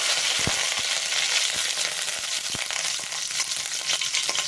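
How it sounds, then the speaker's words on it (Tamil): Curry leaves frying in hot oil with popped mustard seeds, a loud dense crackling sizzle with scattered sharp pops and a few stirring knocks throughout, nobody speaking. "இப்போ நம்ம கருவேப்பிலை போட்டுக்கலாம்."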